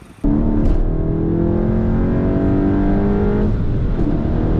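A tuned 2022 Mk8 VW GTI on a Stage 1 E85 tune accelerates hard, its engine droning loud and steady with rising tones, broken by a brief shift-like dip and turbo flutter bursts.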